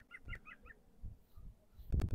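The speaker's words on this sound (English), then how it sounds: "I'm being mocked by a bird." A bird on a golf course gives a quick series of four short, chirping calls, faint and a little distant, followed by quiet outdoor rustling and a few low thumps.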